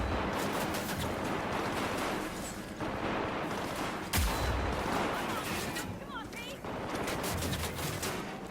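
Continuous heavy gunfire during close-range combat in the video game Cyberpunk 2077, with dense rattling bursts, a sharp louder blast midway and a loud, unbroken battle din throughout.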